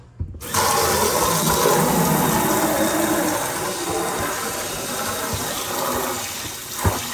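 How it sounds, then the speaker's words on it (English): Tap water pours steadily into a bucket for an aquarium water change, a loud, continuous rushing gush that starts abruptly and holds for several seconds, with no voices. "start filling this bucket up a little."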